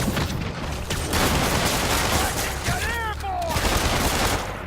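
Rapid gunfire bursts crackle in the Marvel's Spider-Man video game amid dense combat noise, with a few swooping electronic tones and a voice talking over the din.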